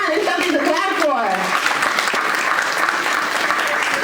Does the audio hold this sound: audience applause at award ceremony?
yes